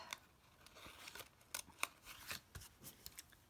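Scissors snip through excess Christmas embellishment trim in a craft project, producing a quick series of faint, crisp cuts with a close, dry, irregular rhythm and no talking.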